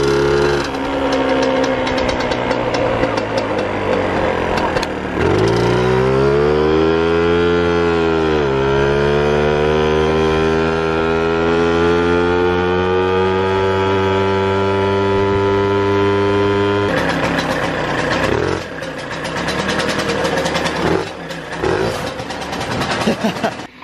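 A small moped engine idles while warming up, loud and close, its pitch rising and sagging with a brief rev before settling into a steady putter, then a rougher, choppier stretch near the end.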